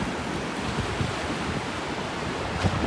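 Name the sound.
waves surfing in with the incoming tide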